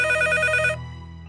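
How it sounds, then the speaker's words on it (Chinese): A telephone rings with a bright electronic trill for under a second, then stops, leaving a low steady hum in a cartoon scene on a spaceship. "正当大家在水中安慰琪琪的时候，神树飞船里的凯胡图老师接到了海洋馆馆长的电话。"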